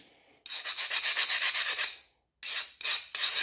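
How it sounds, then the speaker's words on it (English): A metal file rasps across hardened knife steel in a file test, sliding over the surface without biting. Rapid back-and-forth scraping strokes come close and loud in one long burst, then several shorter passes after a brief pause. "let's do a quick file test. Here's the file. Just skates on it."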